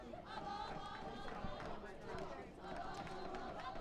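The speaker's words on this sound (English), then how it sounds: "The OU dugout continues their chants, cheering on Erickson" Oklahoma dugout players chanting and cheering rhythmically for their batter during a college baseball game, a steady crowd-like din of voices heard from a distance.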